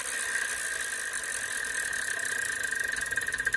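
The wheel spinning in a Wheel of Fortune video game, a steady mechanical whir with a faint rapid ticking that grows more distinct toward the end as it slows.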